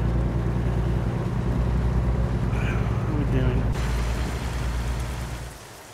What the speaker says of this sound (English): We're getting our fair share of rain in this game, I noticed.